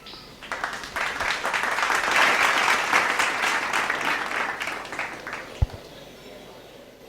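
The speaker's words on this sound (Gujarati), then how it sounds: "તો જોરદાર તાળીઓ થઈ જાય પ્રતિજ્ઞા માટે." An audience at a higher-studies scholarship programme breaks into hearty applause. The clapping swells quickly, holds dense and steady for several seconds, then thins out into a few scattered claps.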